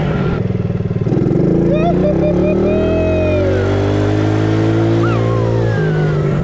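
A small Chinese ATV engine revs up, its buzzy note climbing and holding at a high pitch for several seconds close by, with people talking over it.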